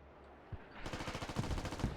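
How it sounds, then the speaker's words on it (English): Rapid automatic gunfire in the tactical shooter Squad: after a brief quiet start, a fast rattling burst of sharp repeated shots at close range continues steadily to the end, fairly faint overall. "Now mortars are being shot accurate."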